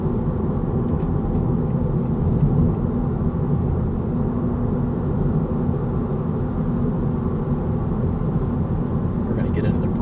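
Steady low road rumble and engine drone inside the cabin of a 2025 Honda Civic Si with a 6-speed manual on a city commute, a constant, even hum with no talking.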